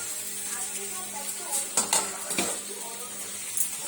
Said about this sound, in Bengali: শুকনো লঙ্কা কালো জিরে ফোড়ন দিয়ে সিম আলু ভাজা পেঁয়াজ দিয়ে, সিম আলু ভাজা হচ্ছে